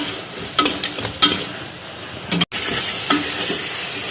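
Onions and tomatoes sauté for a chicken curry, with steady close sizzling broken by several scraping stirs of a spatula in the pan and a brief dropout midway.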